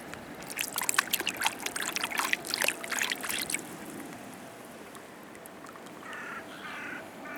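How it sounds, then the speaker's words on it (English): A clay pipe is rinsed in water on the Thames foreshore, with splashing and trickling for a few seconds close by, then fading to quiet ambience with a bird calling faintly. "So let's give this pipe a little rinse off."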